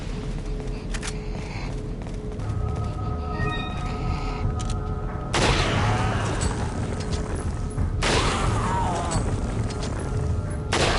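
Gunfire in the video game Resident Evil 4: two sharp, loud shots about three seconds apart, each with a ringing tail, over steady game ambience and faint tonal music.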